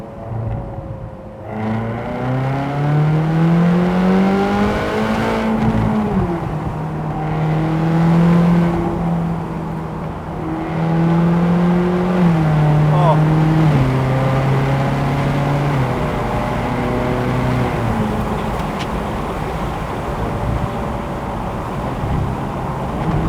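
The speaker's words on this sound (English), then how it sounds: "as soon as you're under that bridge, wow! Let's drop it from 6/5, 4th." A naturally aspirated V8 in a 2010 Ferrari California revs loud and close, accelerating with rising engine tone, then drops through downshifts with sharp pitch changes as the sound echoes under a bridge.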